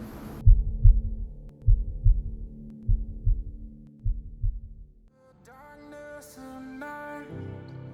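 Deep, pounding heartbeat sound effect, paired thumps repeating steadily for about five seconds, then giving way to swelling music.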